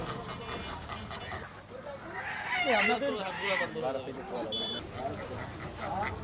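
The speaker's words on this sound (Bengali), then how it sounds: "ভাইয়ের কাছে সুন্দর সুন্দর সব মোরগ দুইটা মুরগিও আছে" Roosters and chickens at a village market cluck and call in a crowded outdoor setting. Several overlapping bird calls rise above a steady murmur of people talking nearby.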